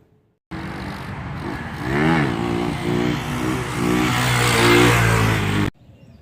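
A clone pit bike engine revs while being ridden, a close, loud buzzing motor that climbs through repeated throttle swells and gear-like pitch sweeps, ending abruptly.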